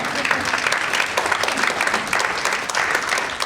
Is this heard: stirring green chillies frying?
no